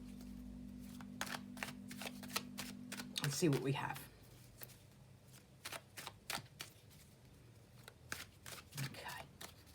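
Tarot and oracle cards shuffled by hand in a quiet room: a brief hum gives way to a dense riffling burst, followed by a run of crisp, separate card snaps and taps. Someone speaks softly during the shuffling.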